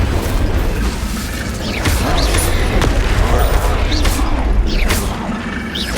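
Confringo blasting-spell explosions in Hogwarts Legacy combat: repeated booming bursts land every second or so over a dense, continuous rumble of battle noise.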